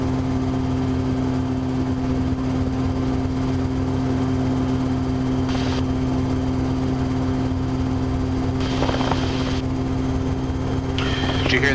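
A helicopter flies steadily with a constant low rotor and engine drone throughout, close and loud, with a few faint radio or cabin sounds.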